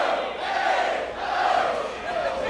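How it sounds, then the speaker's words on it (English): A capacity crowd at an independent wrestling show roars and cheers continuously in waves, loud and close, swelling and dipping through the whole stretch. "Look at that capacity crowd"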